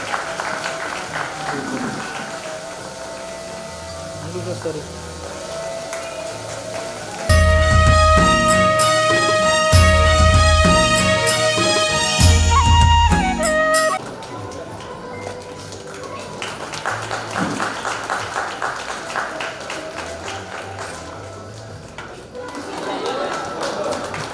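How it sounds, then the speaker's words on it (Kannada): Loud applause from the audience at a friends' get-together, a dense burst of clapping that swells for several seconds and then fades as chatter and a voice return. "ಎಲ್ಲರೂ ಜೋರಾದ ಚಪ್ಪಾಳೆ ಮುಖಾಂತರ ಈ ಒಂದು ಕಾರ್ಯಕ್ರಮಕ್ಕೆ ಶೋಭೆಯನ್ನು ತರಬೇಕಾಗಿ ನಮಗೆ ಕೇಳ್ಕೊಳ್ತಾ ಇದ್ದೇವೆ"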